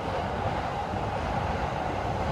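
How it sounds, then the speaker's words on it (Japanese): An out-of-service Joban Line electric train running on the Tohoku Main Line passes as a continuous broad rumble and rush of wheels and air. It holds steady throughout, with no voices. "常磐線の車両が来ましたって。 回送だね、東北本線走ってるんで。"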